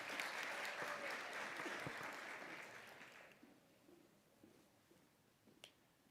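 An audience at a graduation ceremony applauds a graduate, the clapping loud at first and then fading away within a few seconds, leaving a quiet room with scattered small sounds.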